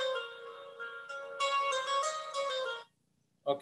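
A mobile phone ringtone plays loudly and close by as a steady, tuneful melody for nearly three seconds, then stops abruptly, with a short burst of other sound after it.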